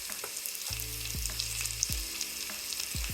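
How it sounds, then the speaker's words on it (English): Ginger and red curry paste fry in a hot pan for a lobster Thai curry, a close, continuous sizzle with a few stirring scrapes and nobody speaking. "Add the ginger. Adding 2 tablespoons of the red curry."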